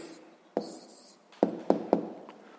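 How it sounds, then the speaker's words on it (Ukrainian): A pen scratches on paper while a sixth-grade math answer is written down, in a few quick, close strokes with short pauses between them and no voices. "Ну що ж, записуємо тоді відповідь."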